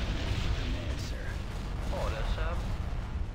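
Starship weapons blasting in Empire at War, an Awakening of the Rebellion battle against a Rebel command ship: a dense, continuous wash of booming, rumbling fire with no clear pauses.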